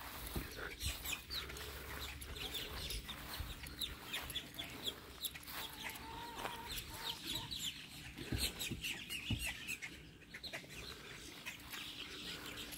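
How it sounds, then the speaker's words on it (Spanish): Chickens cluck and chatter on a seven-acre farm, with hens scattered close and farther off in a constant low flock murmur under faint outdoor background noise. "Aquí tenemos gallinas."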